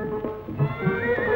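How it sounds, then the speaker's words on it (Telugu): A horse sets off with a short neigh and light clip-clopping hooves, fairly faint and heard alone without speech. "ఒక్కడే ఎక్కాడు గుర్రం. బయలుదేరింది గుర్రం"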